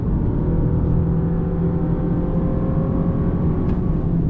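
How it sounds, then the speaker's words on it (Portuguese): Steady engine hum of a 2025 Honda Accord Touring Hybrid building under full acceleration to 100 km/h, a continuous low drone with tonal whine layered above, close and constant, no voices. "Eu acho que aqui é o barulho do motor mesmo"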